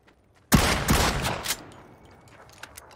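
Distant gunfire from a bot in PUBG: a short burst of several rapid shots, fairly loud at first, then a fading tail with faint scattered pops.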